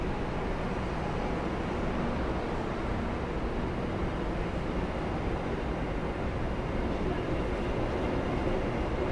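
The Manahan passenger train at Solo Balapan station, a dense continuous rumble and roar of rolling carriages, loud and steady throughout with no pauses.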